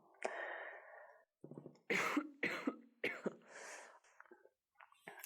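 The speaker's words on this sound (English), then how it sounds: "I just coughed up so much." A person coughs hard in a quiet indoor space, a burst of several wet, throaty coughs with short breaths and gasps between them and no talking.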